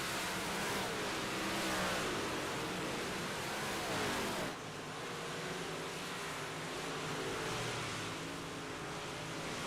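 Dirt track race cars warming up at I-55 Speedway on a Friday night, a loud continuous roar of engines revving and droning throughout, dipping briefly midway before carrying on, with no talk.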